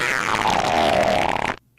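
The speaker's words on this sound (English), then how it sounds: "I can hear his fart." A loud, wet, sputtering fart rasps continuously for about a second and a half, then cuts off abruptly, with no talking over it.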